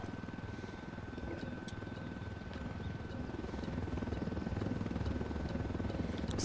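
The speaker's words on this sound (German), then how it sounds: "Ist der Drecksheli, der da über uns fliegt?" Enemy helicopter in the video game Ghost Recon Wildlands, a steady droning rotor hum that swells slightly louder as it passes overhead, continuous throughout with no talk.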